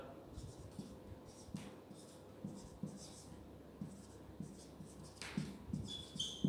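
Chalk or marker strokes on a board during a physics lesson come as short repeated scratches in quick bursts, faint and close, with a voice heard softly between strokes.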